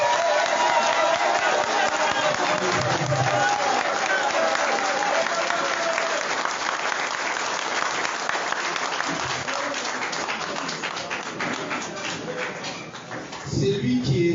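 An audience at a political tribute event applauds and cheers loudly for a honoured guest, a dense sustained wall of clapping with crowd voices that fades slightly toward the end.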